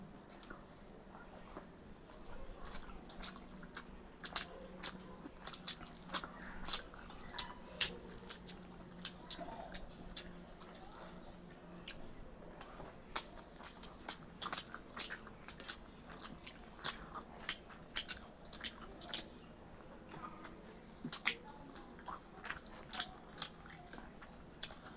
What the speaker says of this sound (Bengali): দেখি সাইটিং মাছটা একটু খেয়ে দেখি।